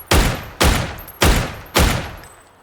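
Four loud, sharp gunshots fired at a steady, evenly spaced rhythm in PUBG, each with a short decaying tail.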